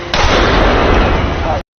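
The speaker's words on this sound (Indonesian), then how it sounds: "terjadi adegan tebak menembak agar Ronald bisa lolos dari gang Samidi" Loud, sustained gunfire from a shootout scene in a yakuza gangster revenge film roars for about one and a half seconds as a dense, booming blast, then cuts off abruptly.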